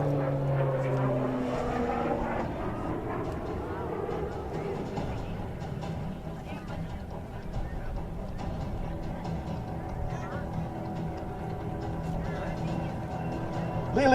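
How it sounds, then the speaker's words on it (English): A Short Tucano propeller aircraft flying an avalanche loop at a military air show, its engine droning steadily from a distance with shifting pitch, under an announcer's commentary. "He'll snap that aircraft all the way around and complete an avalanche loop in the short Tucano."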